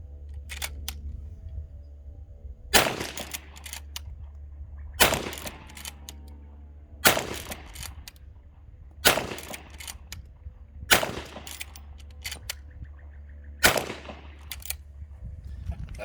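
A Winchester Model 94 lever-action rifle in .44-40 (.44 WCF) is test fired. Six sharp, loud shots come at roughly two-second intervals, each with a short ringing decay, and there is no talking between them.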